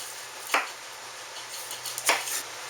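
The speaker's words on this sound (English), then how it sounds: "chopping away" Two sharp knife chops cut vegetables on a board about a second and a half apart, with light clicks between them over a quiet background hum.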